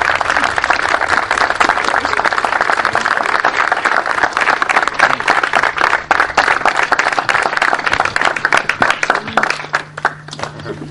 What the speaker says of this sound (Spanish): les ruego un fuerte aplauso para José Luis López y su canal deportivo